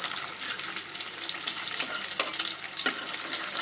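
Egg curry made without ginger or garlic paste frying in a pan, giving a close, continuous sizzle with a few sharper spatula scrapes.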